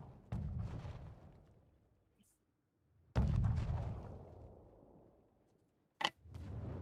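Trebuchet launches and heavy impacts in a medieval strategy game match, three loud booming shots each followed by a rumbling decay, the last cut short.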